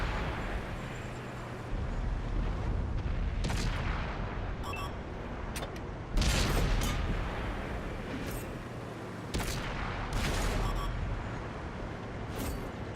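Heavy tank cannon blasts from an FV215b firing APCR shells in the World of Tanks console game, several sharp booms spaced seconds apart over a continuous engine and battle rumble, each shot followed by a brief mechanical rattle.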